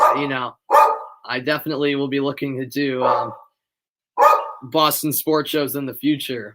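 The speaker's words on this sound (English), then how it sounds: "I apologize for my dog barking in the background" A pet dog barks in the background while someone talks almost continuously in the foreground, the short barks partly buried under his voice.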